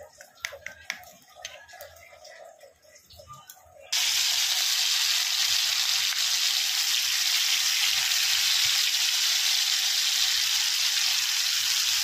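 Spice paste for rohu fish curry hitting hot oil: after a few seconds of quiet clatter, a sudden loud, continuous frying hiss takes over and holds steady to the end.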